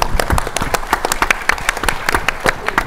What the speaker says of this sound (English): Please applaud yourself.